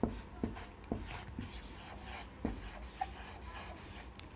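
Chalk or marker writing on a classroom board, a series of short scratchy strokes and taps in an uneven rhythm, close and fairly quiet, with no talking.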